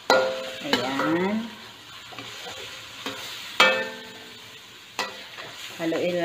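Kiampong rice with oyster sauce gets stirred in a pan, a spatula scraping and clanking against the metal in several sharp strokes over a soft, steady sizzle, with no talking.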